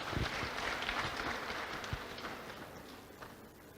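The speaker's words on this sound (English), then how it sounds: "I think he deserves a louder round of applause to us" Scattered audience applause at a pledge-taking induction ceremony, soft and fairly distant, fading toward the end, with no talking over it.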